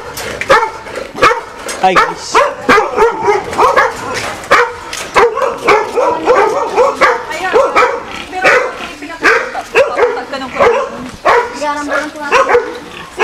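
A male dog at a piggery barks and yips repeatedly in quick, close bursts, with people talking over and between the barks.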